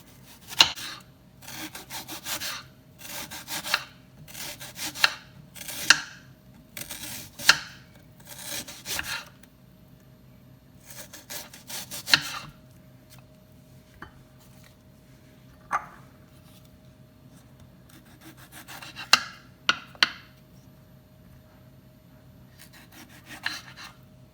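Knife slicing a tomato into thin rounds on a cutting board, a series of crisp rhythmic strokes in quick clusters with pauses between, close and clear over a quiet background with no talking.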